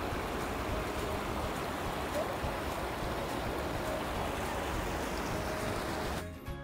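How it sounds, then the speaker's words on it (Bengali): Flowing river water in the Besòs river park in Spain, a steady broadband rushing wash, close and continuous, that cuts off abruptly near the end. "পানির কি সুন্দর শব্দ হচ্ছে, মনে হয় যে ঝর্ণা থেকে পানি পড়ছে এমন শব্দ হচ্ছে পানির।"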